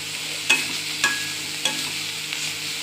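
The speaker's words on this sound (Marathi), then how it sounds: "आता हलवून घेऊया सुकट छान मस्त." Dried shrimp (sukat) with salt being stirred and fried in oil, a steady sizzle broken by three or four distinct spatula scrapes at regular intervals, close and clear with no talking.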